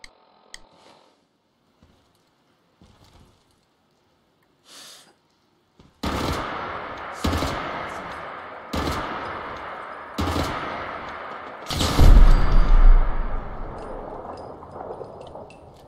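In Fallout 4, 7.62 rounds are fired at a turret: about six seconds of near silence with faint scattered noises, then a string of loud, heavy gunfire bursts, one swelling louder near the end.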